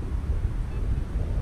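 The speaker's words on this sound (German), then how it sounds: "Wind wird immer stärker." Strong outdoor wind buffets the microphone during metal detecting in open ground, a loud, irregular low rumble that gusts throughout the short stretch with no clear talk.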